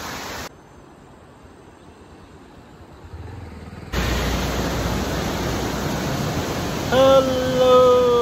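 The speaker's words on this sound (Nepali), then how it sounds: "बर्खा लागे, पानी बढे है पुरै।" Heavy rain pours down as a steady, dense hiss that grows louder partway through and then stays loud and constant, with a brief tonal sound near the end.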